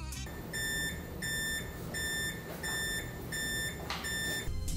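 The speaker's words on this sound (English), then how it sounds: "you'll hear an audible alert" A motorized standing desk sounds its countdown timer alert: a series of five bright, evenly spaced electronic beeps, loud and close, with no voices.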